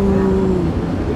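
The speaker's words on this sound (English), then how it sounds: "Cow." A cow gives one close, loud, sustained moo that carries steadily for just over a second.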